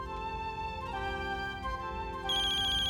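A telephone rings indoors in a TV drama scene with a steady electronic ringtone, repeating tonal pulses that grow slightly louder toward the end, with no one speaking.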